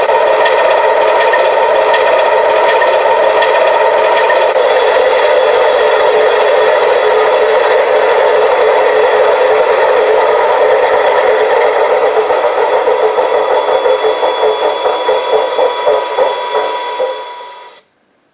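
A Class 22 diesel locomotive idles in a train simulator game with a loud, steady droning hum that holds for about seventeen seconds, then fades and cuts off.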